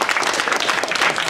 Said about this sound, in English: the round of applause to our panel